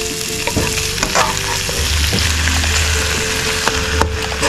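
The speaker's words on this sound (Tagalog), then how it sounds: "isasalang ko na sa walang mantika. Yan. Papabayaan ko lang siya magmantikang mag-isa." Pork ear skin fries in its own rendered fat in a pan with no added oil, sizzling steadily and loudly up close, with scattered pops and stirring clatter and no talking.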